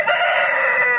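Rooster crowing at a live poultry bird market, a single sustained loud crow filling the whole moment, close and clear with no talk over it.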